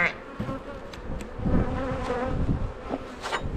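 Honeybees buzz close by in a winter hive, a dense droning hum with individual bees swelling louder as they pass, continuous and without speech.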